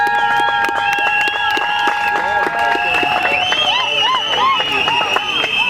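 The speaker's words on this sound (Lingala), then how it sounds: "sous vos applaudissements" Applause and cheering from guests at a civil wedding ceremony, a dense, steady wash of clapping with whistles and excited voices running through the whole stretch.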